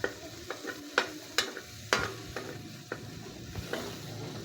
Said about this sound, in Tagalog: pagkatapos nating gisahin yung sibuyas